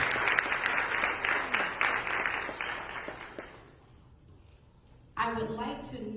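Audience applause at a university distinguished speaker series event honoring the president, a dense wash of clapping that fades to a lull before a voice begins speaking at the end.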